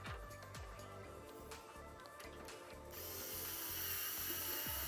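Screws being driven while PC case fans are mounted in a Corsair 5000D Airflow case, a close ratcheting, grinding mechanical sound with small clicks, turning brighter and hissier in the last two seconds.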